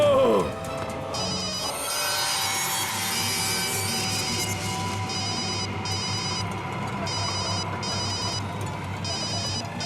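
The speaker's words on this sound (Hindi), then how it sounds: "प्लीज फोन उठाओ।" A telephone rings with a repeating electronic trill in regular bursts, moderately loud over a low background hum, with no one speaking over it.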